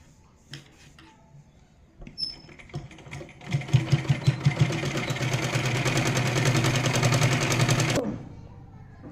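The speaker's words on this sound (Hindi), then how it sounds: "अब हम इस पे सिलाई रखेंगे।" Sewing machine stitches a folded waistband on a Patiala salwar: a few slow, separate needle thumps first, then a fast, steady mechanical whirring run for several seconds before it stops abruptly, close and alone.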